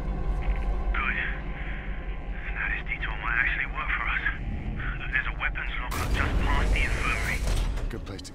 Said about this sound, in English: found the elevator. Heading up now.